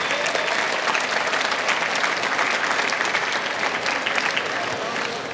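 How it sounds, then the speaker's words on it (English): Graduates at a 2013 community college commencement ceremony break into sustained, dense applause that holds steady and loud across a large hall, with a few faint voices mixed into the crowd noise. "Give yourselves a round of applause."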